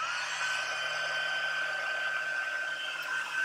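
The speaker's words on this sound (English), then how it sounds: "I'm going to have to heat this up with my heat tool" A heat gun blows hot air with a steady, loud whooshing hum and a faint high whine, unchanging for the whole few seconds.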